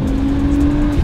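A race car engine in a video game holds a loud, steady high drone with tire squeal layered over it, continuous and close.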